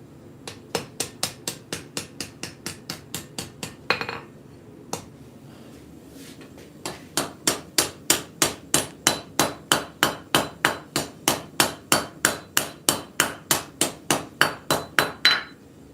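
A hammer flattens hot metal at a forge, striking in a fast, even series of sharp ringing blows, a short pause with a couple of lone taps, then a longer run of rhythmic strikes growing louder, close up with no talk.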